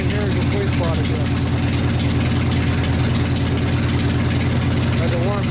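A chopper motorcycle engine idles steadily during a carburetor adjustment on a custom rigid bobber, a loud, close, continuous low rumble with an even throb throughout.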